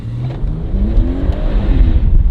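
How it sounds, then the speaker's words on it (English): BMW M140i fitted with a Williams Performance intake pipe, engine revving loud and close for about two seconds with a rising, building tone as the turbo spools. "turbo spool"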